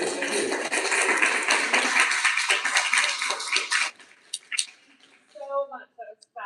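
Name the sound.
audience applause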